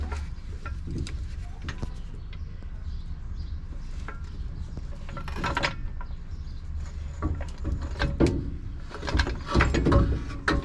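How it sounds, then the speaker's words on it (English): A ratchet tightens a bolt during a 6-inch Rough Country lift kit install on a 2020 RAM 1500 in a driveway, giving bursts of quick metallic clicking over low outdoor ambience, growing busier toward the end. "then I can get on there with a ratchet"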